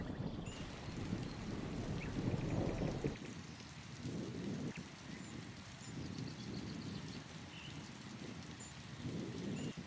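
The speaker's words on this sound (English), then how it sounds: "summer rains return, soaking the dry soil and filling shallow depressions" Steady heavy summer rain hissing across Etosha in Namibia, with a deep rumble of thunder swelling early on and fading into the downpour.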